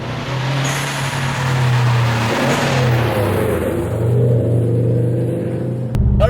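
A Subaru WRX STI's turbocharged engine revs with a loud, sustained low drone and shifting harmonics, holding steady for several seconds before cutting off abruptly near the end.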